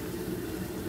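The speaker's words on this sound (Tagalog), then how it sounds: "Ayan po, kumukulo na po siya." Water at a rolling boil in a cooking pot, ready for the rice of a shrimp majboos, gives a steady, close, continuous bubbling hiss with no talk over it.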